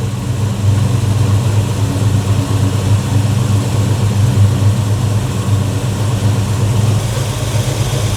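A car engine fitted with ceramic coated headers idles in a steady, loud, even rumble that holds unchanged throughout, close by and with no talking.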